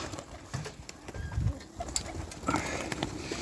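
Soft pigeon cooing nearby with faint rustling and a brief flutter, no talking.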